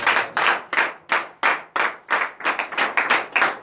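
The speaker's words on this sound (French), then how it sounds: "donner une vive acclamation à l'Éternel." A church congregation claps in a quick, steady rhythm, loud and close, a dozen or so distinct clap bursts over a few seconds with no voices heard.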